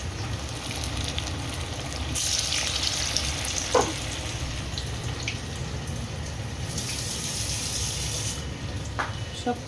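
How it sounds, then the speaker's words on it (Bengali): Small lentil bora fritters frying in a pan of hot oil give off a steady, moderate sizzle that runs throughout, with a few faint clinks and stirring sounds and no talking. "চলো এবার বড়াগুলো ছোটো ছোটো করে ভেজে নিই।"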